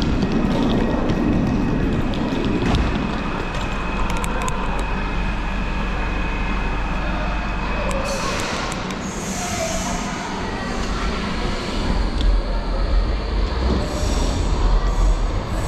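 A train at a station on the route from the airport to central London, with steady rumbling rail noise, wheel hiss and faint squeals running throughout, loud and close, with no one talking.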